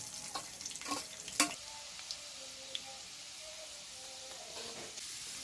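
Garlic frying in hot sweet oil, a steady soft sizzle with a few sharp clicks and stirring scrapes, close and moderately quiet, no talking.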